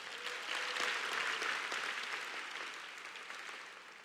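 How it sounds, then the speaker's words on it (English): A faint, distant wash of audience applause for the color guard and band at a high school commencement, swelling briefly and then holding steady. "Can we please give them another round of applause?"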